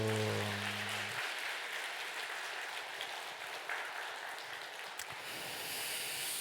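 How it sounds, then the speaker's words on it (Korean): Church congregation at a Sunday worship service claps together after the pastor's invitation, a soft, diffuse wash of applause that follows the tail of a spoken word and carries on fairly evenly at a distance. "옆에 분 바라보며 환하게 웃으며 박수"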